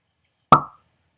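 A real cork is pulled from a bottle of Gibson's Finest 18 Canadian whisky, making a single short, crisp pop in otherwise silent surroundings.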